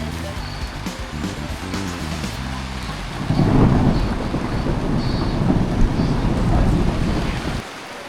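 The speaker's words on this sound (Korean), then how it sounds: "아, 비 많이 와요." Heavy rain pours down during a road trip, a dense broadband wash that grows louder midway and holds steady for several seconds, with a low rumbling hum underneath in the first half.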